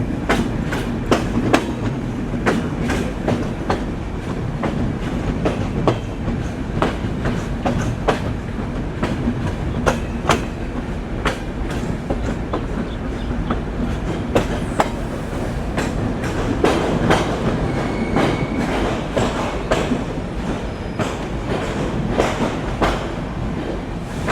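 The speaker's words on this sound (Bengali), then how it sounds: "আমাদের ট্রেন ছেড়ে দিল মোবারকগঞ্জ রেলওয়ে স্টেশন থেকে" Rhythmic clickety-clack of the Benapole Express pulling out of Mobarakganj station, steady and close, with regular wheel beats over a continuous rolling rumble.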